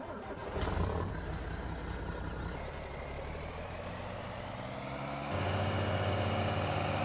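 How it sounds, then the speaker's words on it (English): A truck drives in the Farming Simulator 19 video game, its engine droning steadily and shifting in pitch, with a rise in loudness partway through. No one talks over it. "let's get the truck out of here a minute"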